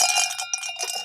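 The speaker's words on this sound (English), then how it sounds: "Wait, I've got my bell." A small hand bell rung quickly several times, bright and metallic with a ringing tail, close and loud with no talk.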